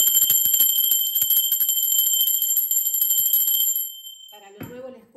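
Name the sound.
bell ringing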